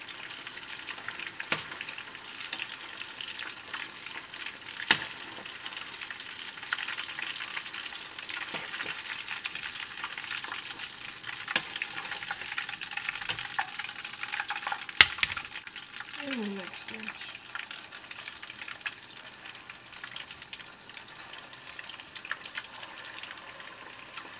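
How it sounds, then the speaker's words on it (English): Meatballs searing in a pan sizzle steadily, with occasional stirring clinks and a brief scrape near the middle, the frying texture holding moderately loud throughout. "searing meatballs from inside out"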